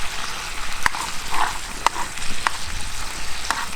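Food frying in a tiny pan on a Bushbox LF stove outdoors, a steady close sizzle and crackle with a few sharp taps from turning the food over.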